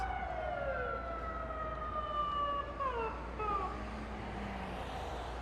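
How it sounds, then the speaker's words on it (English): An ambulance siren wails, sweeping up and down in pitch over steady road rumble on the Las Vegas Strip, continuous and moderately loud, passing nearby. "It's an ambulance."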